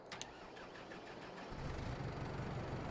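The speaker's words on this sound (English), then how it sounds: "We got our new tractor, a nice Valtra N series." Valtra N series tractor engine starting in Farming Simulator 22, a brief cranking whirr giving way to a steady low rumbling idle that swells slightly, close and alone without talk.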